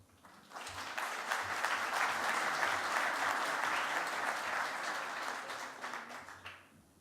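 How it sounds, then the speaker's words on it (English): Applause from a conference audience at a plenary session of Chile Day London 2018, a steady round of clapping that swells in, holds evenly for several seconds, then fades out. "Let's give a big round of applause to Katia Boasa"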